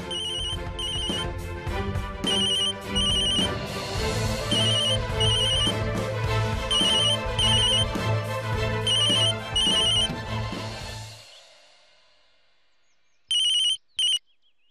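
An outgoing mobile phone call rings with a bright repeating ringback tune over a steady tone bed, loud and close for about eleven seconds, then cuts off, followed by silence and a brief final burst.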